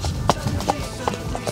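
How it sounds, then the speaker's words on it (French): Horse trotting outdoors on firm ground, hooves striking in a quick, steady rhythm of clip-clop beats, fairly close, with no talk over it. "Allez, on trotte,"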